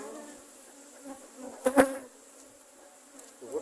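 Honey bees buzz steadily around an open hive during winter management, a close, continuous insect drone with a louder pass from one bee near the microphone partway through.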